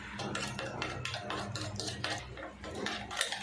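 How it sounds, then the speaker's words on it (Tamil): Sugar and egg whisked together in a bowl, a utensil clinking and scraping against the bowl in a quick, steady rhythm, close up with no talking. "சர்க்கரையும் முட்டையும் ஒன்றா இருக்கிற நல்லா மிக்ஸ் பண்ணி விட்டுருவோம்"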